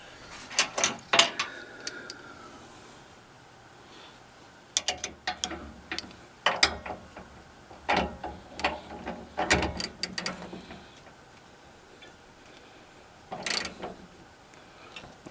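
A wrench ratchets in short bursts of sharp clicks as the riving knife nut on a Ridgid R4512 table saw is loosened in a workshop, with quiet pauses between the strokes.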